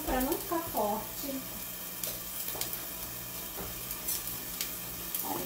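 A small garlic clove sizzles in about three tablespoons of olive oil in a pan, a constant crackling fry with occasional stirring clicks, and a voice talks briefly at the start.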